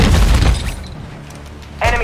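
Gunfire during a Call of Duty: Modern Warfare II battle royale quads match lands as a loud booming burst that fades over about a second, with a voice breaking in briefly at the end.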